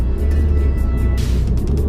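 Loud, steady low engine rumble and road noise from inside a Renault Clio Mk2 while driving, with a brief brighter whoosh partway through.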